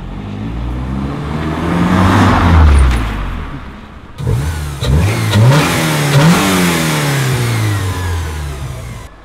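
Porsche 944 engine running close by, revved several times with rising and falling sweeps, a brief drop in between, then more blips over a rough idle.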